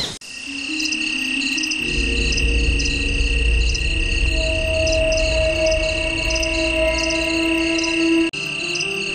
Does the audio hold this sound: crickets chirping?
yes